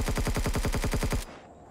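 Rapid automatic gunfire from the video game Empyrion Galactic Survival rattles in an evenly spaced burst of about a dozen loud shots, then cuts off abruptly into a quiet tail.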